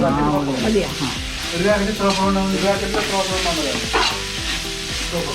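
Coriander powder fries in hot oil for biryani, a close, loud sizzle with stirring scrapes, while voices talk over it.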